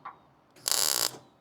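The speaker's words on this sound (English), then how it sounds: "you grab your metal stretcher here, and then you kind of give her the beans" A metal stretcher works a steel box-truck bumper in one loud, harsh mechanical burst lasting about half a second, after a faint click.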